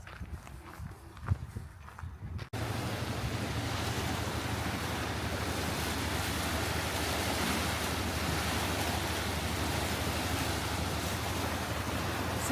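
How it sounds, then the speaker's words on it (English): Incoming tide rushing fast through big tidal gates, a loud, steady roar of flowing water and surf that starts abruptly after a few seconds of quieter footsteps and wind. "the water coming in here, flowing in quite fast as the tide's coming in."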